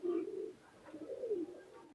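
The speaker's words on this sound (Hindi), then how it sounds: "प्योर देसी कबूतर" A pure desi pigeon coos close by in two soft, rolling phrases, the low throaty calls swelling and falling with a brief pause between them and nothing else heard.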